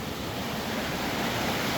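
Water pours down a forest waterfall, a steady broadband rush with no breaks, evenly hissing and fairly distant, with no voices over it.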